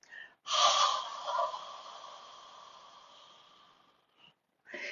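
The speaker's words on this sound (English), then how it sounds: "Long, slow, deep inhale in through your nose. Lungs full, diaphragm full, and loud exhale out through your mouth." A slow, deep breath drawn in through the nose during a yoga breathing exercise, then a long, loud exhale out through the mouth that fades away, close to the microphone with no talking.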